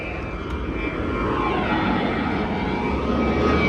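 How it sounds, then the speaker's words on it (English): A large jet airplane takes off at a busy airport, its broad roaring engine noise swelling steadily and sweeping in pitch as it climbs past in the distance. "here comes a bigger jet taking off. It'd be a little noisy"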